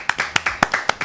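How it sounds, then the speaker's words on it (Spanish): A studio audience on the comedy show Fuera de Joda claps for Nacho in a brisk, even rhythm of about eight crisp, close hand claps in quick succession, with no voices. "Un aplauso más para Nacho."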